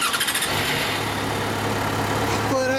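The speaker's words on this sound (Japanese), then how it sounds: "OK、 エンジンちょっと起動してもらえる？" A 2010 Yamaha XJ6 Diversion F motorcycle engine cranks and catches, then settles into a steady, loud idle close by.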